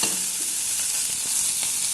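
Fish fries in a pan in very little oil over a lowered flame, producing a dense, even sizzle that stays loud and close throughout. No one talks over it.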